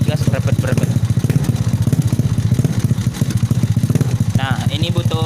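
A Honda Supra motorcycle fitted with a Mio Sporty CDI idles steadily at close range, its engine chugging in a continuous low pulsing rhythm.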